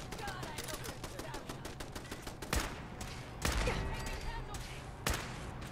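Gunfire in Fallout 4 rattles in rapid bursts, with several heavier, louder shots standing out at irregular moments amid ongoing combat noise.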